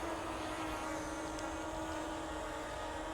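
A continuous whirring buzz of a small WEFONE WF40 drone's propellers hums steadily in wind, with a faint constant tone and no talking.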